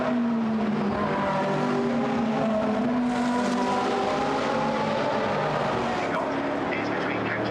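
GT race cars from the Blancpain GT Sports Club lapping Brands Hatch in a qualifying race, several engines droning and shifting pitch as they sweep through a right-hander, loud and continuous beneath a commentator's voice.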